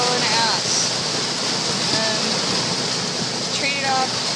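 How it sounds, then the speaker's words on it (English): White water rushes loudly and steadily behind a boat crossing the Humboldt Bay bar at night, a dense, unbroken roar that fills the whole stretch. "I don't think I've ever seen so much white water behind the boat."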